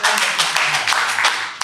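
Audience members clap during a panel discussion, a fairly dense, even patter of applause at close range that carries through the whole moment, with a faint voice heard briefly beneath.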